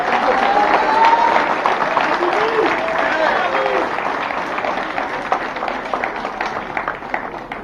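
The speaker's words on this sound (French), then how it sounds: "je vous demande de les applaudir bien fort" At an associations' parade through the town of Le Carbet, a crowd applauds an association with sustained, dense clapping. Crowd noise and voices mingle with the clapping, which fades slightly toward the end.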